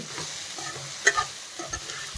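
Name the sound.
stirring leftover chapati noodles in a pan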